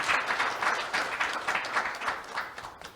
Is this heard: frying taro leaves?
no